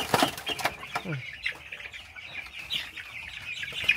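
Broiler chickens on a farm flapping their wings in bursts and clucking while being weighed in batches, with close, uneven scuffles and a person speaking briefly in between.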